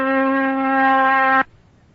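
A steady electronic oscillator tone at 256 cycles per second, standing for an iron bar spun 256 times a second, holds loud and even for about one and a half seconds, then stops abruptly, alone with no talk.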